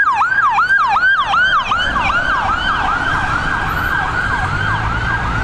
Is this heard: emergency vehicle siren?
yes